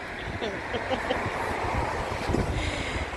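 Wind from a big storm buffets the microphone in low, gusty rumbles while people talk nearby.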